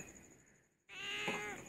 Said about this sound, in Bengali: কাকা ডাকছে, কাকা কাকা ডাকছে